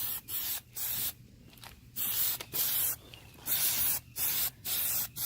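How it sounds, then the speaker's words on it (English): Aerosol spray paint applied as a second coat, short hissing bursts repeated about eight times with brief pauses between, close and clear. "Remember to spray out a little bit to the side before you start."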